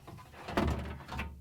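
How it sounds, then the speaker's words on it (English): A drawer is pulled out of a Whirlpool refrigerator: a short, close plastic sliding rumble with a louder scrape in the middle and a second smaller slide near the end, no talking. "First, I'm going to pull out the drawer."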